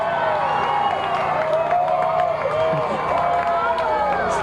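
Dense parade crowd at the Spurs championship celebration cheering for coach Gregg Popovich, a continuous loud roar of voices and clapping with someone speaking over it.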